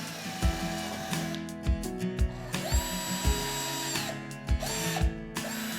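Power drill pre-drilling wood for a shelf bin, whirring in short bursts with repeated bites and catches as the bit enters the timber, close and fairly loud with no talking.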